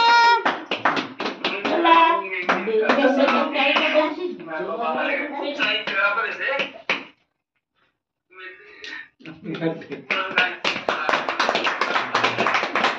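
Hands clap in quick, uneven taps at a first-birthday celebration in a village home. The clapping runs under loud, continuous talking by adults and children, with a short pause in the middle.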